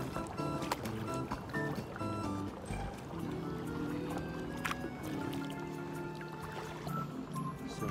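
Paddling a rowboat or kayak into Koh Hong lagoon, with steady water sloshing, drips and splashes of the paddle strokes close by over a continuous background hum.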